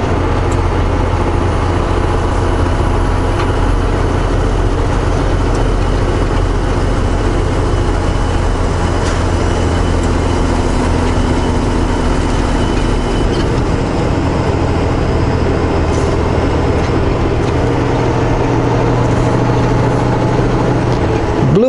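After a downshift, a vehicle engine drones steadily and loudly with heavy low rumble and road noise throughout, holding an even level with no voices.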